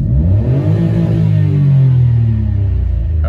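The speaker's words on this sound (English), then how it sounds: "press throttle all the way, and just see how it revs" A Citroen C1 engine fitted with bigger Yaris injectors revs hard at full throttle and holds at high RPM, a loud steady whine and rumble sustained for a few seconds before easing off.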